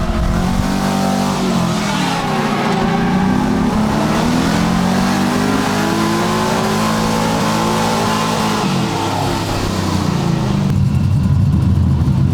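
Mazda RX-7 FC engine revving hard and running rough with a misfire, a loud, continuous growling drone that rises and falls steadily for about twelve seconds with no voices.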